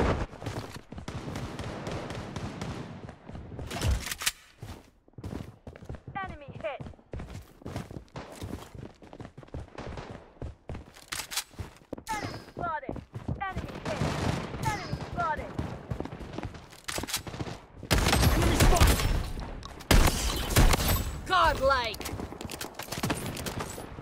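Sporadic bursts of gunfire in the mobile shooter Blood Strike, short volleys and single shots spread over a battle, mixed with footsteps and voiced game callouts, with a louder sustained burst near the end.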